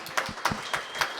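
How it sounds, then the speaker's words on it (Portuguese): A few distinct hand claps ring out at a steady rhythm, roughly four evenly spaced slaps, fairly faint and close, as applause for Dani at the Minas Animada event. "Gente, uma salva de palmas para a Dani, que ela merece."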